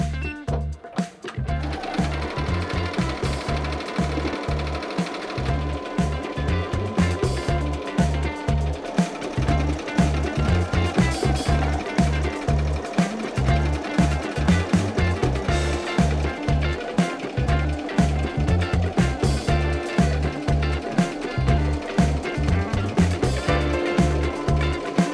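Embroidery machine stitching a design at up to 800 stitches per minute, a loud, steady rapid pulsing hammer of the needle with mechanical whirring, continuous and close throughout.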